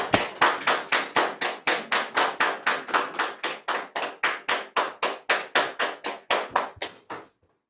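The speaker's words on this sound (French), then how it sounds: "Sous vos applaudissements, s'il vous plaît." Studio audience applauding in evenly spaced, sharp bursts, about twenty-five rhythmic claps in unison that run for roughly seven seconds and then stop abruptly, loud and close, with no talking over them.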